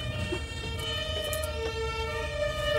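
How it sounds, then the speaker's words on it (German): An ambulance siren wails steadily and loudly over a low rumbling background, its tone holding without pause. "Boah, der Krankenwagen."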